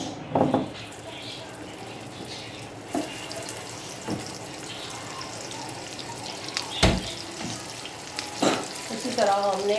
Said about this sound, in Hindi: इसी तरह हमने और गोला कबाब फ्राई कर लेने हैं।